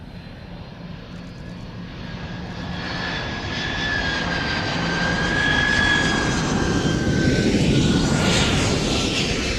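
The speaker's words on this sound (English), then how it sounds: "This was for this C5 Galaxy at Royal International Air Tattoo." A huge C-5 Galaxy military transport aircraft arrives at the Royal International Air Tattoo, its jet engines roaring loud and steady with a rising whine that swells as it nears and passes overhead, with no talk.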